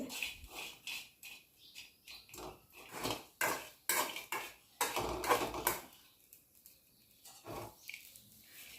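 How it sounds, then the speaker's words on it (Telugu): Small fish frying in a pot for a raw mango curry are stirred with a metal spoon. Irregular clinks and scrapes of utensil on pot repeat throughout at a fairly soft level. "వేగే వరకు కలుపుతూ ఉండాలి"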